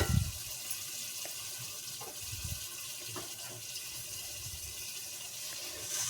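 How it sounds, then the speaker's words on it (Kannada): Hot water is poured into soaked rice for a tomato biryani, giving a faint, steady splashing hiss that runs throughout at low volume with a few soft clinks and no voices. "ಬಿಸಿನೀರನ್ನ ಸೇರಿಸ್ಕೊಳ್ಳಿ."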